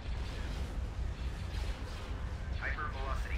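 A hypervelocity cannon fires in the Empire at War Thrawn's Revenge multiplayer game, a sustained deep rumbling blast with a brief voice surfacing near the end.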